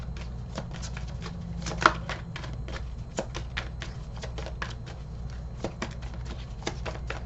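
Tarot cards are shuffled in a quiet room, a soft rapid run of riffling flicks and taps with a few sharper snaps, steady and close, with no voice.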